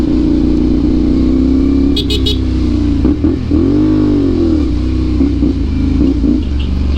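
Heavy road traffic with cars and motorcycles in the Philippines, a constant loud engine rumble with passing vehicles revving and droning nearby, alongside a group ride of a CFMoto motorcycle club.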